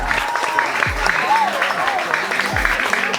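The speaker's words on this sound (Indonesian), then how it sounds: "Tepuk tangan tepuk semua." Group of elementary school children at an outdoor coral reef transplantation education session clap together, a moderate burst of applause with scattered voices and chatter mixed in.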